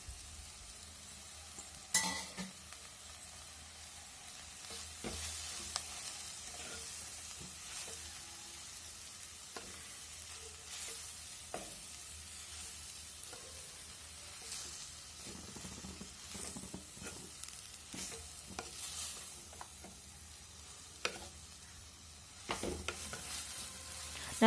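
Fenugreek greens get stirred into onion and tomato in an oily pan for keerai kulambu. A soft, continuous sizzle runs throughout, with scattered spatula scrapes and taps at an irregular rhythm, close but fairly quiet.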